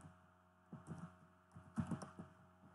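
Fingers type on a computer keyboard while entering a group name in AutoCAD 2021: two soft clusters of quick key taps, faint and close, over a quiet room hum.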